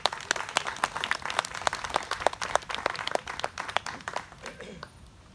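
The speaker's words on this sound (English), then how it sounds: "A round of applause for the members of the Gananoque Horticulture Society and organizers" A small outdoor crowd claps for horticulture society members and organizers at a centennial celebration: sparse, distinct handclaps in an uneven rhythm, moderately close, tapering off after about five seconds.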